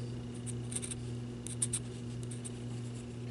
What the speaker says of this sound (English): Just going to lay our scissors right against this